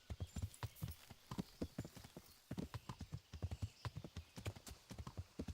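Steady clip-clop of horse hooves trotting in an even, continuous rhythm, fairly quiet and alone, in the video game Kingdom Come: Deliverance.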